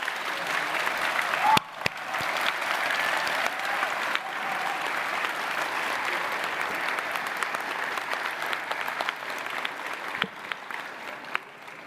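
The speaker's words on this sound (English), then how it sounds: "please give them a big round of applause" Steady applause from a large audience at a university graduation ceremony fills the whole stretch, even and sustained without a break.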